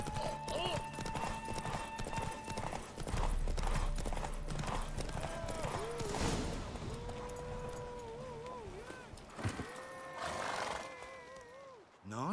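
Hoofbeats of a horse galloping in a race in the video game Witcher 3, a steady loud clip-clop with whinnies and game sounds layered over it.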